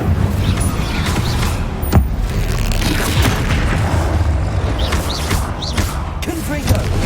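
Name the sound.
spell casting and explosions in Hogwarts Legacy video game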